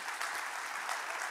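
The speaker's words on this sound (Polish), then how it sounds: "Brawa za takie słowa." A brief burst of steady audience applause in a studio, fairly soft and even throughout, with no talking.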